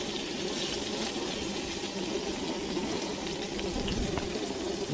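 Breaded crappie fish pieces, some coated in Fritos, frying in a pan give a steady, close, dense sizzle and crackle of hot oil that holds without pause.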